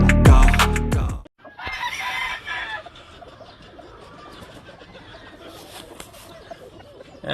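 A Shelton Roundhead gamefowl rooster from Georgia crows loudly and close at the start, then the crow cuts off, leaving quieter farmyard clucks and rustling.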